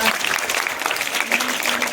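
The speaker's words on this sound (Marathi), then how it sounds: "टाळ्या वाजवण्यासाठी टाळ्या वाजा" A school audience claps steadily throughout, a dense patter of many hands with a faint voice underneath.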